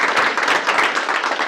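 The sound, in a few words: audience clapping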